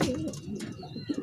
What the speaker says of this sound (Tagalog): Alam yung ibon na to.